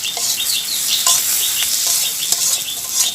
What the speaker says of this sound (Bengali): তো পেঁয়াজ রসুন কাঁচামরিচ দিয়ে দিয়েছি চুলায়।